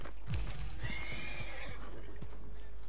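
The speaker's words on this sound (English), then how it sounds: "Need a hand with that horse?" A horse in the video game Red Dead Redemption 2 whinnies in a long, loud neigh, with snorts and hoof clops around it.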